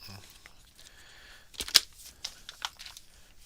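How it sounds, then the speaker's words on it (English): Soft rustling and crinkling as fingers rummage through a tub of fluffy chenille, with a few sharper scratchy bursts, close and fairly quiet. "That's the sound of me digging through chenille."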